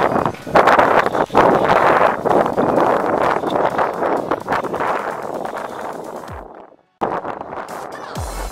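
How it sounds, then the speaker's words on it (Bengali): Breeze buffets the microphone while walking past Satsang Vihar in Balurghat, giving steady broadband wind rumble with gusty pulses, a brief dropout near the end, then the wind picks up again. "সুন্দর হাওয়া দিচ্ছে।"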